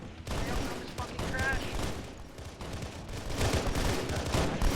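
Scattered gunfire in Halo 3: ODST, a dense wash of overlapping shots and battle noise running steadily through the clip, with speech-like sounds mixed in.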